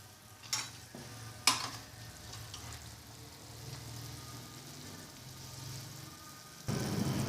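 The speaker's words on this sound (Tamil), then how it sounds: "நல்லா கொதிச்சு எண்ணெய் கூட லைட்டாக பிரிஞ்சு வந்துட்டுருக்கு" Tamarind kuzhambu simmers in a pot with oil starting to separate, a soft low bubbling and gentle sizzle heard close by, broken early by two sharp utensil knocks, with a louder burst of sizzle toward the end.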